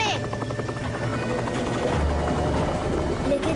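A propeller aircraft throbs with a steady, close whirring engine drone as it takes off, with voices talking over it.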